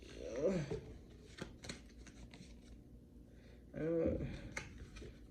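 Tarot cards are shuffled in two short riffling bursts, close and fairly quiet, with soft handling rustles between them.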